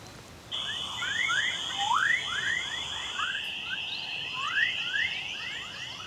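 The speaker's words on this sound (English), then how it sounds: "NASA's picked up these very faint radio waves thousands of miles beyond the stratosphere, which are produced as a result of electrical activity, so things like lightning strikes" Radio waves generated by lightning, picked up by NASA high above the atmosphere and rendered as sound: a steady high electronic whine with a rapid series of rising chirps and whoops repeating throughout.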